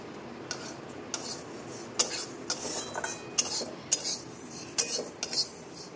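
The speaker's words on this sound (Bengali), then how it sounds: "খিচুড়ির মুগ ডাল।" Moong dal for khichuri being dry-fried and stirred in a pan, with scattered sharp metallic clinks and scrapes of a spoon against the pan over a quiet background.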